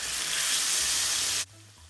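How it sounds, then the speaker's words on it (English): Flour-dusted fish sizzling in hot oil for a Ghanaian red snapper gravy, a dense steady hiss and crackle that holds evenly and then drops away sharply near the end. "drop my fish gently so as to not burn myself, and we will fry it until it is nice and golden brown"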